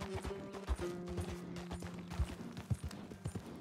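Horse hooves clip-clop at a steady trot in the Red Dead Redemption 2 video game, close and fairly loud, with rhythmic low thuds set against a constant busy background of game ambience.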